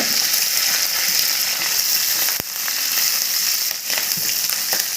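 Curry leaves and chopped green chillies frying in hot oil for an onion mutton fry, a steady close hiss of sizzling that runs throughout, with a brief sharper crackle midway and another near the end.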